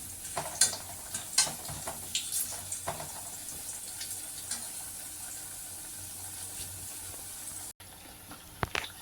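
Potato and cabbage bajji fry gently in oil over low heat, a soft, steady sizzle with scattered sharp clicks and scrapes of a utensil, no talking.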